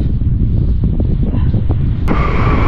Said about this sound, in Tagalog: Lakas ng hangin dito sa sa Switzerland.